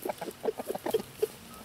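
Chickens cluck in a quick scatter of short, close calls as they are let out to free range, with several birds overlapping before the calls thin to a single cluck.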